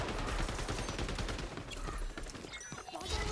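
Dense gunfire in the shooter game XDefiant: a rapid burst of overlapping shots, loud and busy throughout, with no talking.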